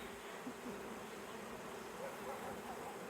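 A honeybee swarm being recaptured hums as a steady, dense buzz that fills the whole moment without pause, many wings droning together at close range with no voices.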